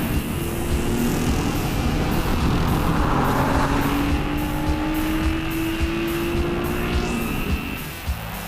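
A Lotus Evora sports car driving at the Goodwood Festival of Speed, a loud steady engine roar with rising pitch as it accelerates, joined by a faint tyre squeal.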